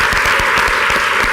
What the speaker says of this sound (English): I just want to give Megan and all of her team a round of applause for putting this together